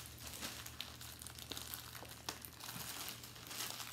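Plastic packaging on a Disney Loungefly wallet crinkles and crunches continuously as it is pulled open by hand without scissors, close and steady with small sharp crackles throughout.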